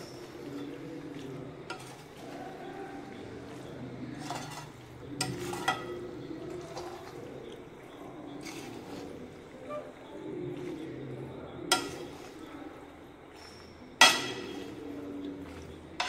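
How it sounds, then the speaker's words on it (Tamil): Mushroom pasta is stirred in a pan with a utensil, producing repeated scraping and clinking strokes over a low sizzle, with occasional sharper metallic knocks. "நல்லா ஈவனாக மிக்ஸ் பண்ணிவிடுவோம்"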